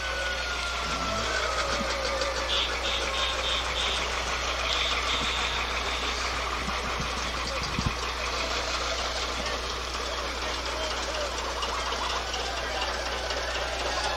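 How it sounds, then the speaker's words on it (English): A 1958 John Deere 720 diesel tractor runs in a small-town anniversary parade, its engine chugging steadily and fairly close under a continuous crowd murmur. "Then we have a 1958 John Deere 720 diesel tractor."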